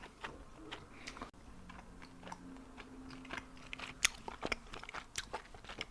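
Bubble gum chewed close to the microphone in a quiet room, with soft wet smacks and small crunchy clicks in an irregular, steady rhythm and no talking.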